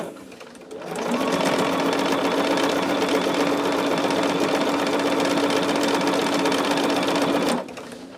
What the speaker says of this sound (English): I am sewing it from the bottom.